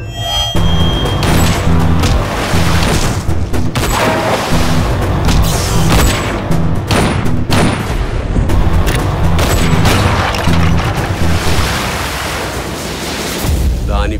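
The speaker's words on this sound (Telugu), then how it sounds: "switch లొక్కగానే పేలడానికి bomb" Bomb blasts and booming crashes fill a Telugu theatrical film trailer, loud and continuous with heavy low rumble, layered with gunfire-like bursts, dramatic music and occasional voices.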